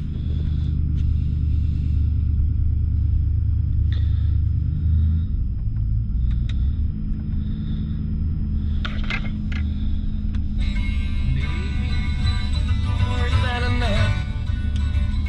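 A 2017 Nissan Titan XD V8 truck engine runs steadily with a strong, continuous low rumble, heard from inside the cab, with a few light clicks and a brighter electrical whine joining toward the end.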